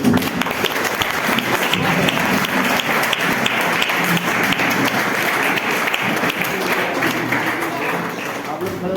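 Loud, dense applause from a seated audience at a sales meeting welcoming the women's section to the stage, continuous clapping with scattered taps and thumps, and some voices underneath.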